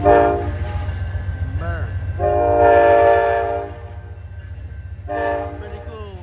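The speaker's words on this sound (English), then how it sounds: "Amtrak P42 locomotive. There it goes." Amtrak P42 diesel locomotive passing close by with an empty baggage car, its horn sounding in loud, sustained blasts over a steady low rumble, with a brief voice heard between the horn blasts.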